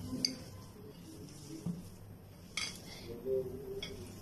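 Egg and onion pakoda batter mixed in a bowl: quiet scattered clinks and scrapes of a utensil against the bowl, with a few brighter metallic taps spread across a hushed kitchen background.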